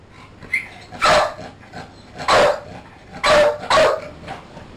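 A dog named Chucky barks in four loud, sharp bursts spaced about a second apart, close by, with brief quieter gaps between and no talking.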